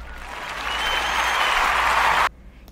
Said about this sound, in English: Let's clap it up for Akeen.